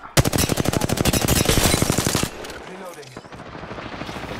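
Rapid Havoc rifle fire in Apex Legends rattles out as a fast, loud burst of about two seconds, followed by quieter game effects and faint background sounds.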